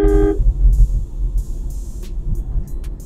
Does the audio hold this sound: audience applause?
no